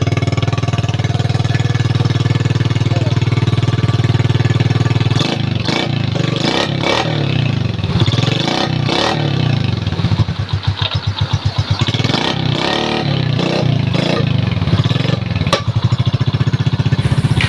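A motorcycle engine idles loudly and steadily up close, then revs in several rising bursts with a rough, choppy stretch midway, running on without any voices.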